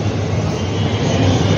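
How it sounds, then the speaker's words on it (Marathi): Mumbai Aqua Line 3 underground metro train running in a tunnel, a steady loud broadband rumble and rush with low hum, continuous throughout and alone. "मुंबईची भूमिगत मेट्रो रेल्वे"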